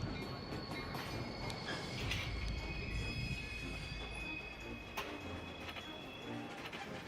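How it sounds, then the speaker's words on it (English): Slow freight train rolling through a Chicago rail yard, a steady close rumble of railcars and wheels with high, thin wheel squeal ringing over it and occasional metallic clanks. "Seeing these mile-long, slow-moving freight trains heading out of Chicago to the long-distance rail network"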